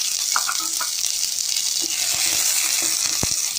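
Small shallots with curry leaves sizzle in hot oil in a pan for a Tamil ponnanganni greens stir-fry, giving a loud, dense, steady crackle with a few spoon taps near the end.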